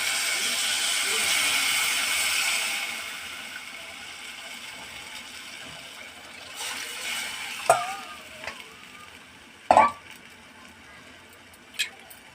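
Tamarind added to a hot pan of cooked vegetables for Telangana-style pappu charu sizzles loudly at first, then fades to a quiet simmer punctuated by a few sharp utensil clinks and scrapes.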